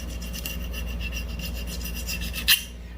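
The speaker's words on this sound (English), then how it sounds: "I can feel that needle file dragging" Close, continuous rasping of a needle file dragging over the Cerakote-coated frame of an IMI Jericho 941 E pistol, steady strokes ending in a short sharper scrape, no talking.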